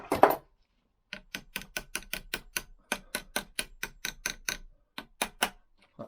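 Lambretta scooter sprockets turned slowly by hand with a misaligned plate, giving a sparse series of sharp, clicking ticks at irregular intervals in a quiet room.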